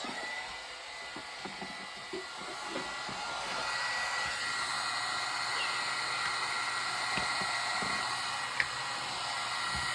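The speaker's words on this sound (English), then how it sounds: "If not, you're going to hear my heat gun" A heat gun warming up for heat embossing blows a steady, broadband whooshing roar that holds nearly unchanged throughout, close and fairly loud, with a few faint clicks.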